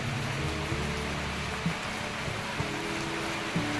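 Steady rain pours down in a village where people walk under umbrellas, a dense even hiss with a few soft thumps and low rumbles mixed in, fairly close and continuous throughout.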